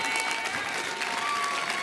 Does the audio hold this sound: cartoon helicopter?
no